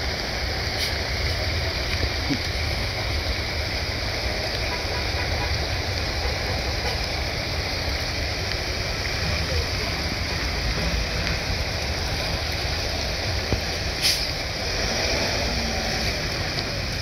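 Steady, dense rainfall pours down without pause during flooding on Zigzag Road in Montalban, Rizal, a heavy even hiss filling the scene from start to finish.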